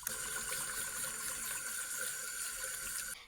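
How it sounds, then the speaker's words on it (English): A low tap stream runs over mulberries being rinsed in a sink, a steady close splashing hiss that continues unbroken until it cuts off at the very end. "It's important to use the low stream to rinse them really well, because the hard stream can break them into mush."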